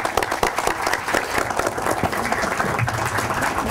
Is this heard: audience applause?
yes